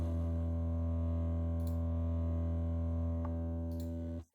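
Distorted, saturated synth chord built for an anime-style soundtrack, thick and compressed, sustaining steadily with a dense harmonic stack and a couple of soft clicks before cutting off abruptly near the end.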